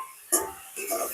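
Mutton curry stirred in a pot: a brief metal clink of spoon against pot, then a second scraping, clattering stir, close and short.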